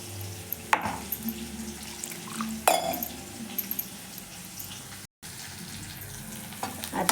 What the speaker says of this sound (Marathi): आता पहा ते भाजून घेणार आहे मी लाल जर झालं की मग टाकायचं